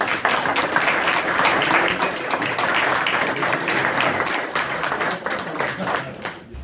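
A crowd gathered in a fire station applauds the Téléthon sponsor, the dense, loud clapping holding steady for several seconds before thinning at the end.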